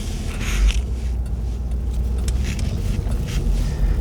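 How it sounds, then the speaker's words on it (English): A 1993 Buick Roadmaster wagon with faulty ABS cruises along a main road, its steady low engine and road rumble mixed with wind noise heard from inside the cabin, continuous and moderately loud with nobody speaking. "So we'll pull out to the main road and take it for a little bit of a drive."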